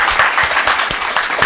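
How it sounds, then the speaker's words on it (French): A brief burst of audience applause, dense and fairly loud, lasting about a second and a half without voices. "Ça s'applaudit, ça."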